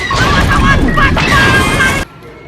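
A loud explosion effect in a homemade Star Wars film roars as a dense, sustained crashing blast for about two seconds, then cuts off abruptly to near silence.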